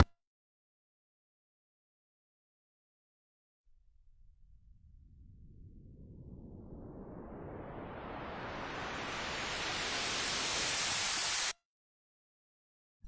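Synthesized filtered-noise swoosh effect that rises gradually out of silence, a hissing sweep growing louder and brighter over several seconds before cutting off abruptly.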